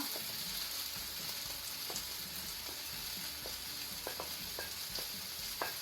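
Tomato and spice masala frying in a pan for prawn masala, a steady soft sizzle with occasional sharp crackles and pops, heard close and alone.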